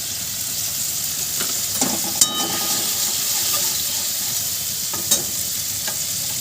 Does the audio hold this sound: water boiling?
yes